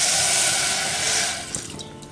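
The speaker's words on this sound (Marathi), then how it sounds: "आता हे अर्धी वाटी पाणी आपण याच्यात घालून घेऊ." Half a cup of water pours into a pan holding sugar for a syrup, a steady splashing stream up close that tapers off into scattered drips.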